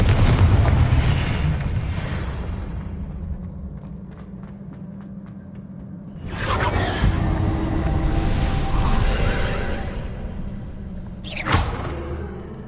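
Confringo fire spell explosions in the video game Hogwarts Legacy: a heavy rumbling blast, then two more booming bursts several seconds apart, each fading into a crackling tail.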